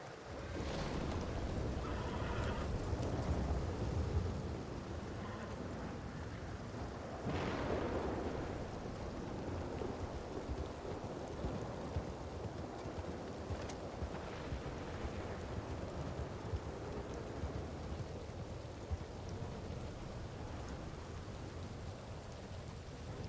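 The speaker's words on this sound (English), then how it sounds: "Oh, gee, it's raining." Rain falls steadily in a Western roleplay video game, a faint, even hiss of drops on surfaces lasting throughout, with a couple of brief, soft swells and no talking.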